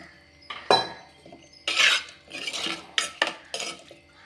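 Metal lid set down over a pot of simmering mango pachadi with jaggery, several clanks and clatters of metal on metal spread over a few seconds, close and fairly loud, with no talking.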